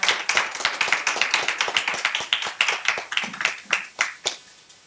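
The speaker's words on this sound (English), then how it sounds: "So I think we want to give another round of applause." A ceremony audience at a remembrance event for the Chibok girls gives a round of applause: brisk, loud clapping from many hands that tapers off toward the end, with no talking.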